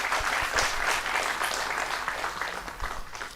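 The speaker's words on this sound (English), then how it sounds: "Huge round of applause, ladies and gentlemen." Conference audience at an industry-academia conclave breaks into applause, a fairly quiet but steady patter of many hands clapping through the short stretch, with no speech.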